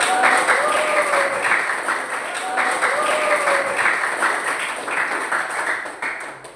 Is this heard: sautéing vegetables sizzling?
no